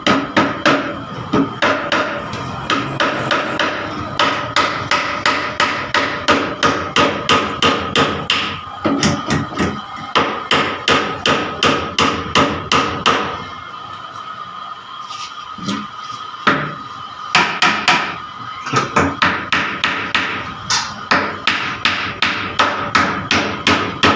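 Nails are hammered into a homemade meter box in rapid, sharp, ringing blows, close and loud, with a few short pauses between bursts of strikes.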